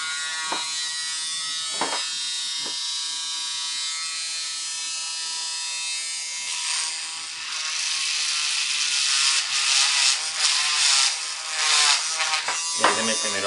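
An electric drill bores holes into a PVC tube, a steady high-pitched whine running throughout that grows rougher and louder in the second half as the bit bites, with a few brief knocks.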